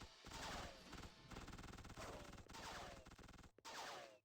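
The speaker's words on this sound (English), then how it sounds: "let me just dodge this gunfire for a minute." Dense enemy gunfire in the video game X2: Wolverine's Revenge, rapid automatic bursts rattling continuously and loudly with short pauses, mixed with crashing impacts.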